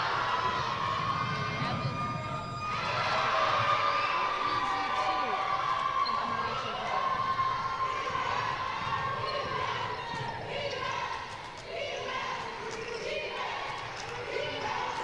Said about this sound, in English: the fans are cheering them on